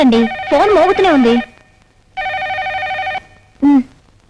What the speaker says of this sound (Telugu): ఏమిటండి ఫోన్ మోగుతూనే ఉంది?